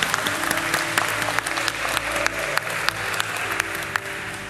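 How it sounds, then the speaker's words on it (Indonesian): Applause from wedding guests for a newly married Catholic couple, a steady crowd clapping with scattered sharper claps, sustained evenly through the moment, with faint murmuring and organ-like tones underneath. "Kita tepuk tangan mereka."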